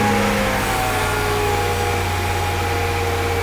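A car engine idles steadily after a front crankshaft seal change, a continuous close low hum with a belt-driven whine, loud and even, with no talk over it.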